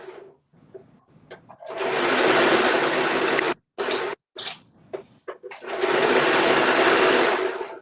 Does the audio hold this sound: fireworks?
no